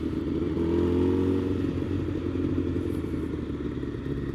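A sport bike's engine drones and revs under throttle during a wheelie, a steady, fairly loud roar with a rising pitch early on, then holding as it rides away, without talk.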